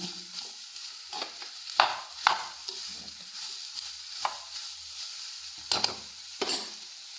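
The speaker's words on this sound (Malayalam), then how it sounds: "ഇളക്കി കൊടുക്കുക." A bitter gourd stir-fry is stirred in a pan, a soft steady sizzle under sharp scraping clacks of a spoon at irregular intervals, close and moderately quiet.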